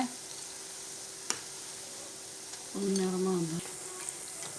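Pakoda deep-fries in oil while being stirred lightly, producing a faint continuous sizzle with a single sharp knock and a brief tonal hum partway through. No one speaks.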